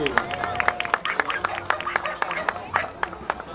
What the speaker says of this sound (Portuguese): Salva de palmas para o Billy!